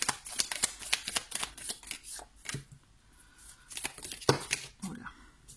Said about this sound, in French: et moi je bats les cartes en attendant